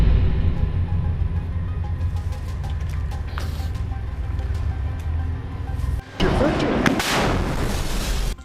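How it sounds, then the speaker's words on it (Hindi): Rocket fire and gunfire in urban combat against tanks amid ruined buildings in Gaza, heard as a loud, continuous rumbling barrage with a sharp, heavier blast burst near the end. "अल कासिम के लड़ाके खंडहर पड़ी इमारतों में छिपकर सामने से आ रहे इजरायली टैंकों पर रॉकेट से वार करते हैं"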